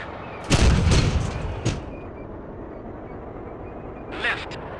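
A tank cannon fires in the video game ARMA: Cold War Assault, giving one heavy, close blast that rolls off over about a second. A sharper report follows, and a fainter burst comes later over a low background.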